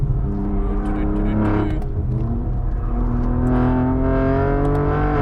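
A BMW M3 Touring's engine drones loud and steady from inside the car on a race track, its pitch sagging briefly and then climbing as the car pulls harder.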